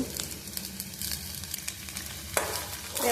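Crispy potatoes fry on a low flame in a pan, giving a steady soft sizzle with scraping stir strokes near the end.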